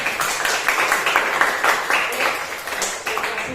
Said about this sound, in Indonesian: Beri tepuk tangan yang meriah untuk Satya dan Bimo